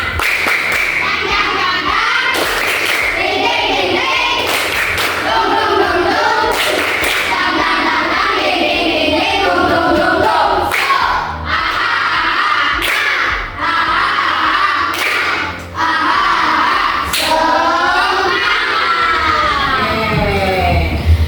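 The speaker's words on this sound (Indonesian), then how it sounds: "Tepuk semangat." Classroom clapping chant led by a teacher, children clapping in sharp rhythmic patterns while chanting together in a lively, loud, repeated sequence.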